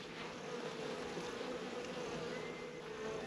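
Honey bees swarm around an opened hive during the first inspection of the season, a dense, steady buzzing hum close by that holds evenly throughout with no voices.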